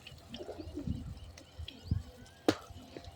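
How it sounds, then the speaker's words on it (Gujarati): Pigeons perched by a farm well among mango and guava trees give soft, low intermittent coos, with one sharper rustle or flap midway through a quiet outdoor scene. "અટાણે જો કબૂતર બેઠા છે"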